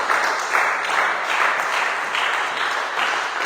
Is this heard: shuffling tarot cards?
no